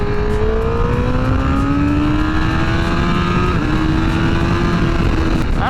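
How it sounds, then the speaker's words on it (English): A 2019 Honda CBR1000RR sportbike engine revs loud and close under heavier throttle, its pitch climbing steadily across the stretch with a brief dip before rising again. "I'm gonna give it more throttle this time."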